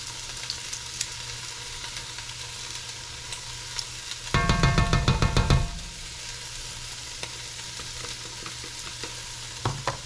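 Garlic hits a hot pan for pumpkin soup, bursting into a loud, dense sizzle for just over a second before settling back to a steady, quieter frying hiss with faint clicks.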